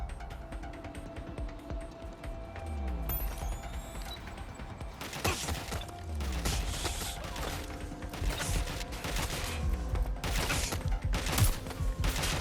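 Gunfire crackles through a Watch Dogs: Legion firefight, with rapid, fairly quiet shots layered over mechanical clatter and background game noise, growing denser and sharper in repeated bursts toward the end.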